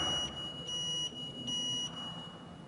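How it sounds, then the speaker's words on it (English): High-pitched electronic beeps pulse several times over a steady tone, evenly spaced and close, with no talking, from a Renesas GR-PEACH health-monitor module. "the module will beep"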